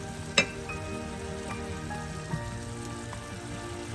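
Cut green mango and tomato go into a sardine theeyal curry frying in a pan, giving a steady close sizzle with one sharp clatter near the start and a softer knock later.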